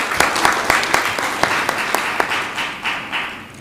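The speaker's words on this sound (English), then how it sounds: "Another round of applause," Applause at the G-25 Africa Coffee Summit in Africa after a speaker on the coffee sector, a room of people clapping steadily with sharp individual claps standing out, fairly loud and close, then tapering off.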